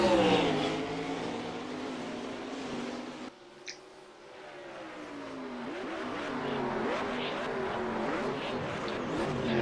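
Indy race cars in an IndyCar series race at St. Petersburg scream past on the track, engine whines rising and sweeping in pitch as several cars pass, with a brief lull before the next group roars through.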